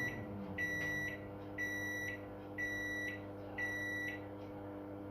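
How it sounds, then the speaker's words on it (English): A microwave oven's steady electric hum runs underneath while heating pizza pockets, and a high beep sounds four times in regular, evenly spaced bursts. "I'll slide them in microwave"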